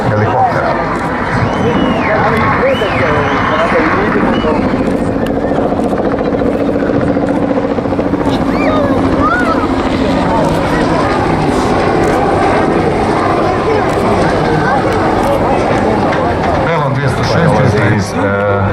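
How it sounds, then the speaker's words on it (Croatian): A Bell 206B-3 helicopter manoeuvres at an airshow, turning and sliding sideways, its engine and rotor a loud continuous drone. An announcer talks over it the whole time. "posada helikopter će izvesti okretanje u letenju uz pomicanje lijevo i desno, bočno"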